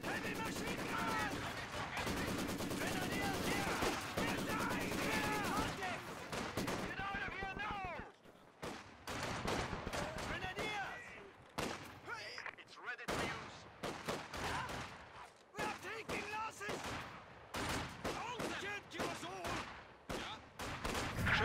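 Heavy machine gun bursts from Company of Heroes 2 rattle loud and dense for the first several seconds, then break into scattered shots and blasts of battle, with game voices calling out in between.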